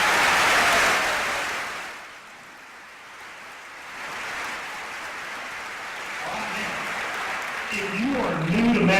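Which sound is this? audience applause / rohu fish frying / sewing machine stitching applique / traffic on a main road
audience applause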